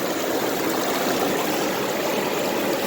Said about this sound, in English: The sluice is pretty flat, but the water's running good down here.